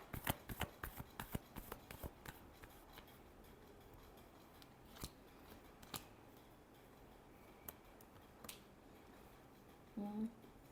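Tarot cards are riffled in a quiet room, the flicks densest early on and thinning to scattered soft taps and snaps. A brief rustle comes near the end, with no speech.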